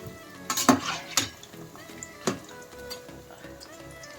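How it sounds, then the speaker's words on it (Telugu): Cauliflower pakoras fry in hot oil in a pan while a utensil scrapes and clinks as they are turned, giving a few sharp near metallic knocks over a low steady sizzle, with no talking. "ఇప్పుడు ఇవన్నీ బాగా ఫ్రై చేసుకుందాం. ఒకసారి తిప్పేసుకుందామండి."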